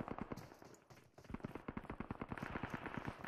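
VSS rifle gunfire in the PUBG Mobile video game, dense rapid bursts of shots rattling away in a steady stream with brief gaps.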